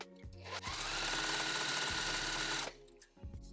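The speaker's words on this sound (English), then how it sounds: "I'm just going to place the seam allowance about 1/4 inch from the sewing line" A sewing machine runs a steady straight seam across a quilt block, a loud continuous whir lasting about two seconds between brief quieter starts and stops.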